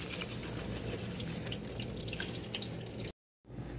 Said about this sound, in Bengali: এখন শাকটা পরিষ্কার পানিতে ধুয়ে পানি ঝরিয়ে নেব